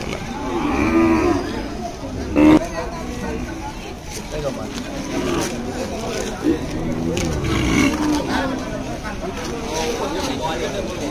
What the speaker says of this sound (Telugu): చాలా పవర్ఫుల్ బుల్ ఇది, డేంజరస్ బుల్.